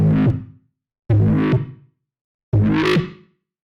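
Three separate synth bass notes with bandpass distortion, each a growling, distorted tone with a sharp attack that fades out, spaced by short silences.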